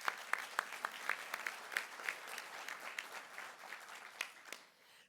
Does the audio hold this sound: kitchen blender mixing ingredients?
no